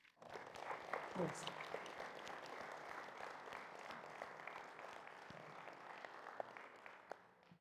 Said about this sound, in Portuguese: vamos dar uma grande salva de palmas para os voluntários da mesquita